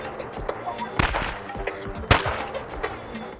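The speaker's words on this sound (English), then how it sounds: "we're gonna be shooting pistols, which we have a Glock and a revolver" A few pistol shots from a Glock and a revolver at an outdoor ranch shooting range: two sharp cracks about a second apart, set against steady background noise.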